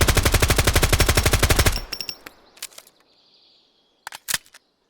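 Rifle fired on full auto in the video game Road to Vostok: a loud, rapid burst of about twenty evenly spaced shots, then a few clicks and handling noises and two short sharp sounds near the end.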